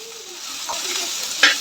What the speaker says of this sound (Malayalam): ഇച്ചിരി ഉപ്പിട്ട് ഇനി നമുക്കിതൊന്ന് വഴറ്റിയെടുക്കാം.